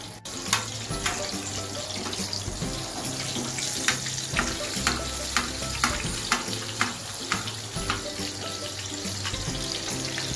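Beef chapli kebabs, Peshawari style, shallow-frying in plenty of oil in a pan make a close, busy crackle and sizzle, broken by repeated sharp taps and splatters that stand out from the frying.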